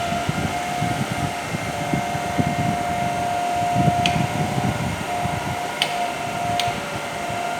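DC shunt motor running on a lab test bench, a steady loud mechanical whir with a constant tonal hum and a few brief clicks, continuous and close, with no talking.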